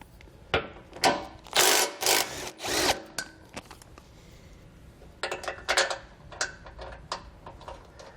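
Bumper beam bolts come off a 2020 Subaru Forester during a hidden trailer hitch install, with bursts of a power impact tool rattling and whirring in several close, loud runs separated by pauses.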